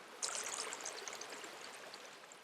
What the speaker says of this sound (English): that rain then infiltrated gradually into the ground, ending up with this steady flow of this river